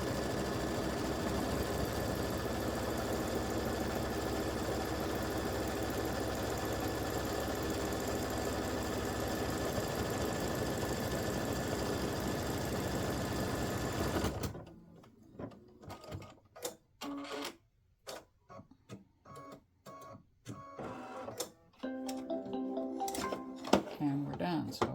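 An embroidery machine top-stitching over orange thread on a Halloween cowboy ghost patch, a steady close mechanical whir that runs continuously and then stops, leaving quieter clicks and handling sounds.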